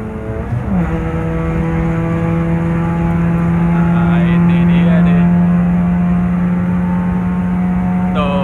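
A remapped Honda Brio 1.2 with its speed limiter opened accelerates hard at highway speed, a loud, steady engine drone rising slowly in pitch under constant wind and road roar.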